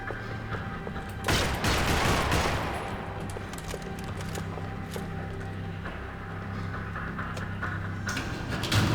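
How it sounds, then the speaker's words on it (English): A loud burst of rapid gunfire erupts early in the video game Max Payne 3, in a parking lot, then fades into a steady low rumble with scattered distant shots and a constant background hum. "Another parking lot rattling with gunfire."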